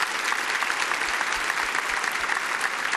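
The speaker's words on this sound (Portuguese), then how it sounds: "Vamos aplaudir esse maravilhoso casal em nome de Jesus." A church congregation at a Baptist worship service claps warmly. The applause is dense, continuous and loud, filling the room evenly from start to finish with no voices above it.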